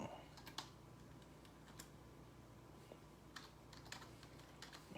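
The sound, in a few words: typing with one hand on a keyboard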